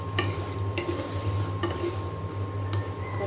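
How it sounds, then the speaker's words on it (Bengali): Kumro bori lentil dumplings frying in oil in a pan, a soft steady sizzle under repeated sharp scrapes and clinks of a metal spoon stirring against the pot, close and fairly loud. "এখন আমি কুমড়ো বড়ি খুব ভালো করে ভেজে নেব।"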